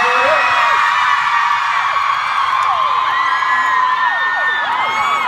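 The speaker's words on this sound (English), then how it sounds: "You guys scream at everything I say." A large fan-meeting crowd in Dallas screams and cheers in a loud, sustained roar, with many high shrieking voices layered over each other throughout.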